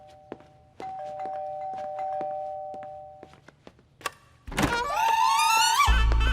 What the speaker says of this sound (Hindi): तेरा बाप बाहर खड़ा रह के घंटी पे घंटी बजाते जा रहा है